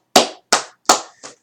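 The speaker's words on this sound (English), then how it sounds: "I give them a round of applause" Four sharp hand claps in quick succession, close and isolated against silence, the last one softer.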